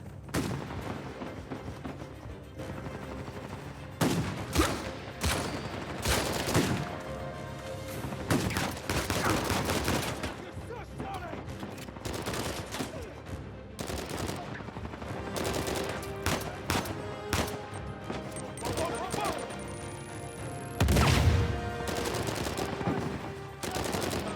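Shotgun gunfire in the video game Uncharted 4: repeated sharp blasts in irregular bursts over about twenty-four seconds, loud and close, over a low game soundscape.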